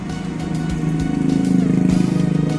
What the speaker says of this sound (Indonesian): silahkan diperhatikan bila ada kendaraan lewat dan motor-motor lain, kendaraan